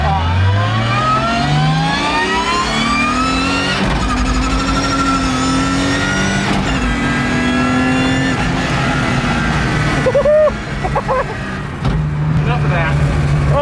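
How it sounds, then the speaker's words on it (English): An E36 rally car with a dog box gearbox revs and accelerates on the street, its engine note climbing through repeated pulls with a piercing gear whine layered on top, loud and close, while people talk over it. "Is that all that noise in dog box? It's all that gear whine"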